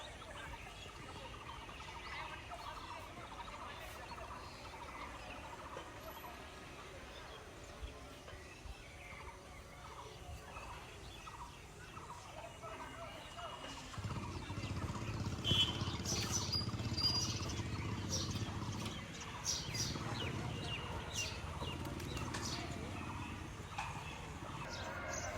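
Pet pigeons coo and call with soft, repeated low notes over a steady murmur of background noise, growing fuller and louder partway through as the birds settle into a continuous throaty rumble.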